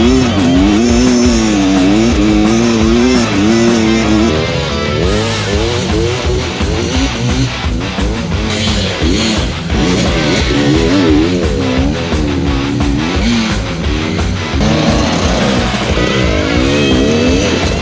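A 2023 Beta X Trainer 300 enduro motorcycle ridden hard on trails, its two-stroke engine revving up and down continuously, loud and close throughout with rising and falling pitch as the throttle opens and closes.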